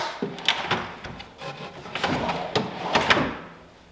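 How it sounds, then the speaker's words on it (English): A wooden drawer on a homemade kitchen cabinet is pushed back onto its slide, giving several close scraping, knocking runs of wood on wood that catch and hang up along the way, with no talking. "now we're just going to put the drawer back in the slide"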